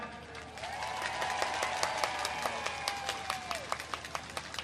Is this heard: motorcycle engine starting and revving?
no